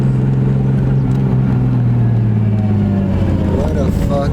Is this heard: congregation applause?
no